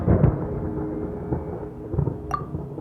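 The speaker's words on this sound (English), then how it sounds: "Paimon hears thunder!" Thunder in the video game Genshin Impact: a low rumbling roll with a couple of heavier swells and a brief higher crackle near the end, heard alone.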